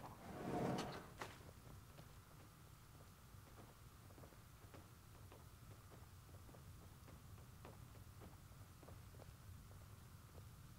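In the video game Skyrim, a door swings shut with one soft, muffled thud near the start, followed by a quiet low hum and faint ambient ticks.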